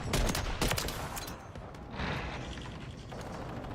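Call of Duty Warzone gunfire cracks in two quick loud bursts of shots, then comes a rattling mechanical stretch and a duller shot-like burst near the end, with no voices.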